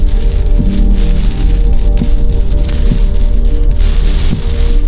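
Heavy typhoon rain pours down steadily and loudly with wind, a dense continuous roar close by, with a few faint knocks and crackles in the wash and no talking.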